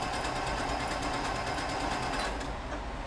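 Sewing machine stitching fabric guided by hand for heirloom fagoting, a steady fast mechanical whir with rapid needle clatter running continuously and close, no talking.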